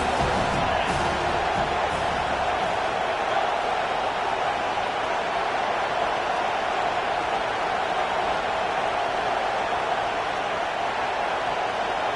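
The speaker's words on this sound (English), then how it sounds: "how nice is it to have the home crowd going absolutely bananas?" A loud home crowd in an NCAA 25 college football video game roars continuously, a dense wall of cheering and noise holding steady throughout with no break.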